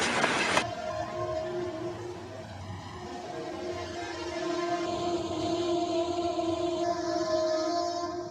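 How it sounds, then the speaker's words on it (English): A smoky train rolls past on the rails with a steady mechanical rumble and sustained tonal hum, a sharp burst at the start, then continuous moderate noise. "I think few have seen such a smoky train in real."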